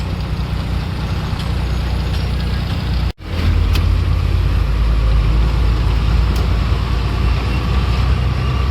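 Heavy road traffic near Ennore heard from inside a truck: a loud, steady roar of engines and tyres, a brief dropout near the middle, and faint air-brake hisses within the dense, continuous wash.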